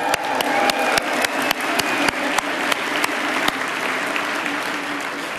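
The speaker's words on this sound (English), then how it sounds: "give yourselves a round of applause" A live audience breaks into applause, a full, even patter of many hands clapping close by with a few sharper individual claps standing out, sustained for several seconds without talk.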